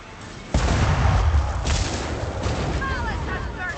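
Cannon fire during a siege in the video game Warhammer: Vermintide 2: a sudden deep boom lands near the start, followed by a dense rumbling wash of battle noise.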